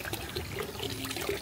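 Water trickles and drips from a small pipe, a soft, continuous splashing stream close by with no talk over it.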